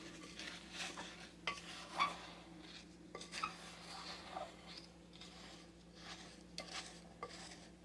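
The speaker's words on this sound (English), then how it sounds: "I'm going to use a wooden spoon just to mix this." A wooden spoon stirs ingredients for a meal-in-a-jar recipe around a bowl, giving soft, irregular scraping and knocking strokes at low level. No one speaks.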